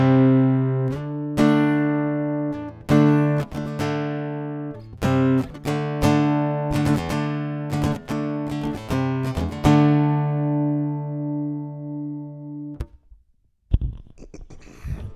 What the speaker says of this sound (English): I just turned down the volume on the guitar just a bit, just because it's going to be a little bit more background